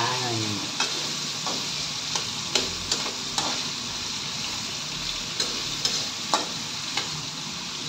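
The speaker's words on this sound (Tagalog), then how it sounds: "at pinipirito natin, imegus-megus muna natin ang ating patatas at carrots" Potatoes and carrots fry in a pan with a steady loud sizzle, while a utensil scrapes and taps through them every second or so as they are stirred.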